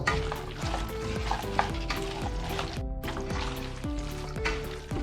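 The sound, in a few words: stirring chicken into biryani masala in a pan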